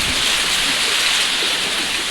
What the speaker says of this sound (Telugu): మళ్ళీ వర్షం స్టార్ట్ అయింది